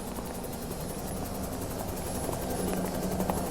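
A helicopter's steady rotor drone carries on without a break through a freezing minus-thirty-degree scene, with a faint rhythmic thump low in the mix and no voices.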